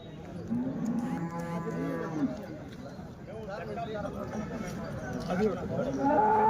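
Cows at a dairy farm in Punganur moo repeatedly, long drawn-out lowing calls that overlap and carry over a steady outdoor background, with voices murmuring nearby.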